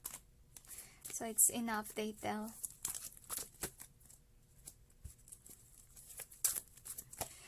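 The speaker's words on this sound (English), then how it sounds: "Another shuffle" Tarot cards are shuffled during a card reading: bursts of crisp papery riffling and flicking sit close to the listener, first under a speaking voice and then continuing on their own in uneven clusters.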